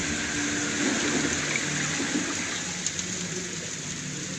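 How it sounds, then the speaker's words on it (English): Torrential monsoon rain falls in a tropical forest, making a dense, steady wash of hiss that holds level throughout with no voices. "tropical monsoons that sweep along the far"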